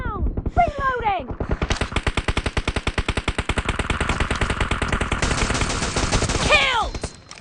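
Rapid automatic rifle fire in a PUBG team deathmatch, one long sustained burst of dense, evenly spaced shots, loud and close, with a brief voice before and after the burst.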